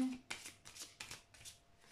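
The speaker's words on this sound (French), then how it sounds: "je vais prendre une autre carte quand même pour les féminines" Tarot cards being shuffled and drawn, a quick run of soft riffling flicks and card slaps close by, quiet and alone without talk.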